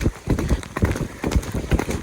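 Horse galloping along a ditch during a ride, with rapid rhythmic hoofbeats thudding close by in a steady repeating pattern, no talk over them.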